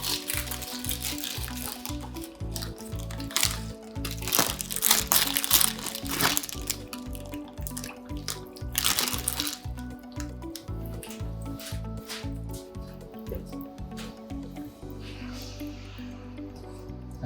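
A whole bag of dark brown muscovado sugar is tipped into a pot for mulled wine, with close crinkling of the bag and a granular crunching pour that runs steadily throughout, no voices.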